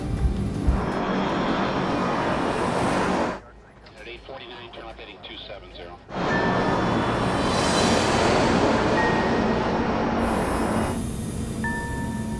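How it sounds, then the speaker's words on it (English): An Airbus A310 airliner of a Romanian airline climbing just after takeoff, a loud broad jet roar that briefly drops away before returning, with someone speaking over it. "Just after liftoff, the plane makes a left turn towards its first navigation point."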